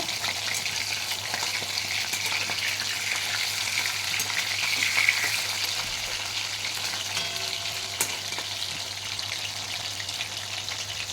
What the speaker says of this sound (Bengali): এই যে আমি মাছ ভাজা শুরু করে দিয়েছি